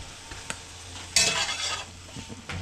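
Reconstituted freeze-dried chicken and eggs stirred in a hot frying pan: a soft scrape at first, then a loud burst of sizzling as the food is pushed around, settling to a lower fry with a final scrape.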